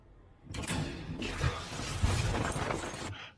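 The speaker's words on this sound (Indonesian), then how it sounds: "terdengar suara Ivan membuka pintu" A door is opened in a quiet room, giving a sustained broadband scraping and rattling sound with a few knocks, lasting about two and a half seconds at moderate level, with no talk.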